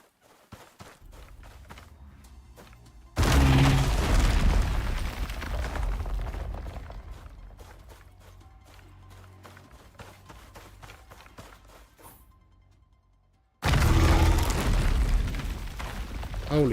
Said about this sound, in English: Let's see how he fares against the shotgun.